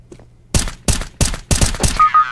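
Gunfire in the Counter-Strike: Global Offensive video game, with four or five loud, sharp shots in quick succession, each with a short echoing tail, followed by a faint tonal game sound.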